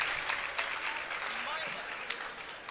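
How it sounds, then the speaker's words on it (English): A crowd roars and claps for Andrew Yang at a high school simulated political convention, a broad, distant wash of noise heard faintly beneath a person talking over it. "you hear the roar for Andrew Yang right now"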